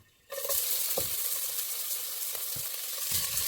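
Chopped ginger and garlic drop into hot oil in a pan with a sudden loud sizzle, then a steady frying hiss with occasional soft stirring scrapes.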